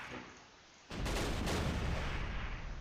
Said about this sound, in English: If our artillery strike could actually hit it, of course.